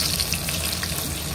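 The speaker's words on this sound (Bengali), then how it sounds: "বেগুনটা লাল লাল করে ভাজা হয়ে গেছে" Pieces of brinjal sizzling in hot oil in a pan, a continuous even crackling hiss heard up close with no voices.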